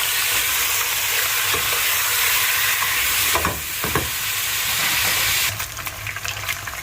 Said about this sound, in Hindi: चिकन को मैं खूब अच्छी तरह ब्राउन करूँगा।